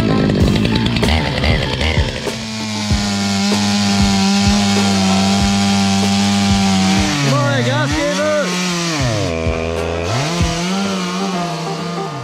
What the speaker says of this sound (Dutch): De kettingzaag is volledig klaar voor te gebruiken.